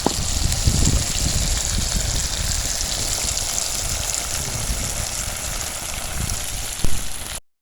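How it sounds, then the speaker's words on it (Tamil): Gongura leaves are washed under running water, the steady broadband gush of the stream splashing continuously and close by for the whole stretch, with no talk over it. "நல்லா கழுவி வச்சிட்டோம்னா அதுக்கு மண்ணெல்லாம் போயிடும்."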